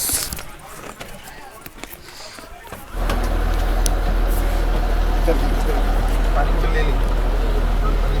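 Bus engine on the Port Blair to Diglipur route, a deep steady rumble that starts abruptly partway through and keeps droning loudly afterward, with people talking over it.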